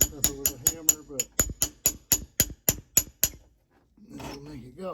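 Hammer blows drive a tight W56 transmission shifter bushing on a 1982 Toyota 4x4 pickup: about fourteen sharp, ringing metallic strikes in a quick, steady rhythm, then a pause before a voice comes in.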